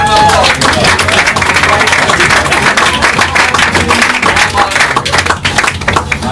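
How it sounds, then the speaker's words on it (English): Loud, dense audience applause at a magic show fills the whole stretch, a steady roar of many hands clapping close by, with faint voices mixed in. "Give him a nice round of applause."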